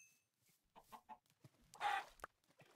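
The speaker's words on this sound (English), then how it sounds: "We can at least kill some chickens" Chickens in the blocky survival game Yolocraft give a few soft, quiet clucks, with short scattered game noises and small thumps around them and one louder squawk near the end.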